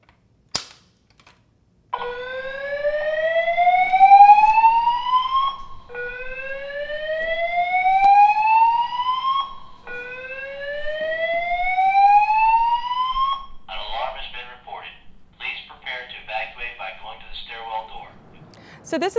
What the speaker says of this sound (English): Make sure to activate the fire alarm as you're leaving the building